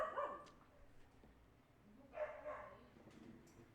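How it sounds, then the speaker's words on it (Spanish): A dog barks and whimpers somewhere far off, faint and intermittent, with short yips breaking through low background noise. "Escuchan un perrito por ahí ladrando"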